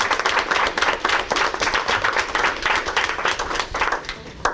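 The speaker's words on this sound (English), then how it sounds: "We'll give them a round of applause" A school board work session audience gives a round of applause for elementary and middle schools, brisk steady clapping from a modest group in a room, close and even for several seconds.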